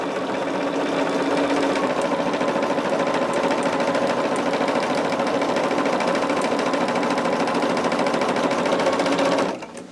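A sewing machine stitches fabric scraps for a quick handmade gift, a fast, steady mechanical whir and needle chatter up close that runs for several seconds, then stops abruptly.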